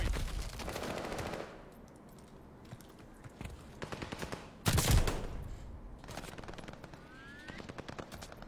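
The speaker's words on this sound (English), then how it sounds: "Hard point is under fire." Rapid bursts of automatic gunfire crackle through a ranked online shooter match, with a louder, heavier blast in the middle and lighter scattered shots around it.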